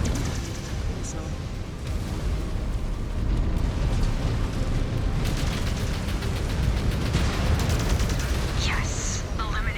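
Dense missile explosions and weapons fire in MechWarrior 5: Clans combat, a continuous heavy barrage of booms and crackling impacts with steady rumble throughout and no pauses.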